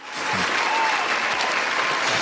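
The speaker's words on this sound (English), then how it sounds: "Round of applause for Nikki Drinks." A podcast studio audience gives a round of applause for a guest, a loud burst of many clapping hands that holds steady and close throughout.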